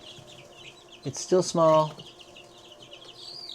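A young hen with a small comb gives a short burst of clucking close by, and a person talks briefly over it.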